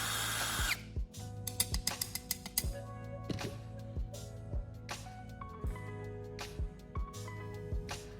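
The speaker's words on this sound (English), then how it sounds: "I'm drilling a precise hole through the center of the paddle" A power drill whirs in short bursts with sharp metallic clinks and clicks between them, close and fairly loud, no voices, boring a hole through flattened copper pipe.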